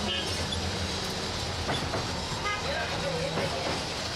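Tram ride in Tashkent, Uzbekistan: a steady rumbling interior roar of the moving streetcar with rail clatter and brief squeals, continuous and close, with faint voices in the background.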